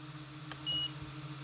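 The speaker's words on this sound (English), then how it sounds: "You'll get a beep." A short, high electronic beep from an auto-leveling 3D printer confirming stored settings, a single quiet tone over a low steady hum.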